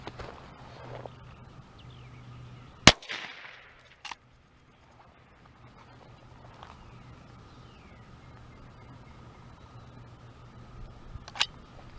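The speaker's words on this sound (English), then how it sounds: "First shot's going to be the long rifle, and then I'll follow up with a 22 short." Two sharp, isolated cracks from a rifle firing .22 long rifle and .22 short rounds at a target about 5 yards away, each short and loud, separated by long quiet stretches with a faint hum.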